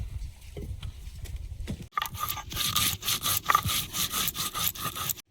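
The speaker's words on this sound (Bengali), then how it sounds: "গোলমরিচ আর 4 কোয়া রসুন একসঙ্গে বেটে নেব।" Black pepper and four garlic cloves are ground together on a grinding stone in a kitchen, giving soft, uneven rubbing at first and then a brisk run of rhythmic, gritty back-and-forth scrapes, close by.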